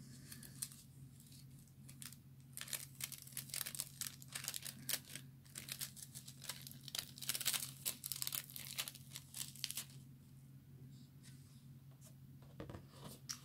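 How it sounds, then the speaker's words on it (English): Foil is peeled slowly off a card during an ink-and-foil resist craft project, a close, quiet run of dry crinkling and ticking crackles that stays soft and steady throughout, with no talking. "So let's peel the foil and see what we've got."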